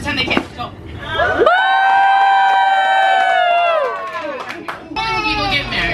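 Wedding guests in a crowd cheer and scream together in a long, loud, sustained whoop. Voices carry over the chatter on either side of it.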